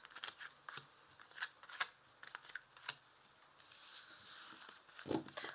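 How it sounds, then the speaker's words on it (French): Tarot cards drawn one by one from a deck and placed down, producing crisp snips, flicks and papery taps in an uneven rhythm, close and fairly quiet, with no voices. "Alors, je vais tirer 5 cartes."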